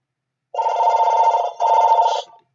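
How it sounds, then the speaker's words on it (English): A telephone rings during a tornado warning broadcast, two long loud buzzing rings back to back with a short gap between them, close and clear with no talking. "I'm sorry about the phone ringing."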